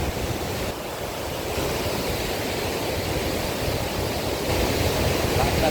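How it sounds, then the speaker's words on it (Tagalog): Strong rushing water pours through the dam at the Arayat fishing spot in Pampanga, a steady, dense roar that fills the whole clip without pause. "Lakas ng tubig."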